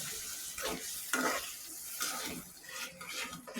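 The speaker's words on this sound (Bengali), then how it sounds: "ঝোলটা দিয়ে ভালোভাবে নাড়াচাড়া করতে হবে।" A spoon stirs potato curry in a pan just after broth has been added, giving soft wet scraping and sloshing strokes with a light sizzle underneath, close and fairly quiet.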